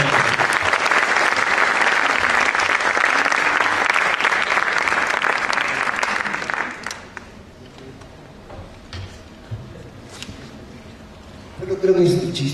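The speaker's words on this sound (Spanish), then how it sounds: "Un aplauso, por favor, para la señora María Navarro y el profesor Jorge Gallardo." Audience applause at a Spanish-language film festival event, thick sustained clapping for about seven seconds that thins out, followed by quieter room sound and some scattered voices.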